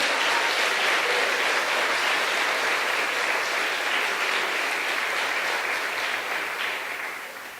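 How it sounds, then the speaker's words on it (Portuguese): A large church congregation applauds steadily and loudly, a dense wash of clapping that holds for several seconds before gradually tapering off. "Dê mais um aplauso para Ele"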